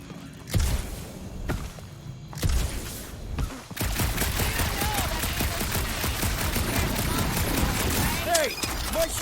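Blaster gunfire in the Guardians of the Galaxy video game, a few separated heavy shots and thumps at first, then a long, loud sustained barrage of rapid fire with scattered whooshes.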